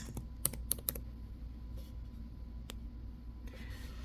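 Text typed on a computer keyboard while setting up a sticker design, a short burst of quick key clicks near the start followed by a few isolated taps, close and faint against a steady low room hum.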